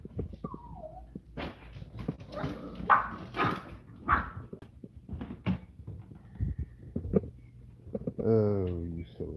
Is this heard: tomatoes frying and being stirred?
no